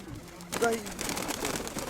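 A pigeon gives a short, soft coo close by, followed by faint rustling and background voices.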